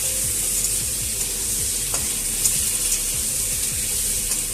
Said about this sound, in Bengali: চিংড়ি মাছগুলো দিয়ে কিন্তু এইভাবে নাড়তে থাকবে